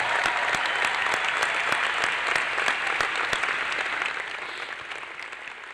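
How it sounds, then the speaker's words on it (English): Graduation ceremony audience gives a steady round of applause, dense close clapping filling the hall for several seconds before easing slightly toward the end. "I'd like her to stand and get a round of applause"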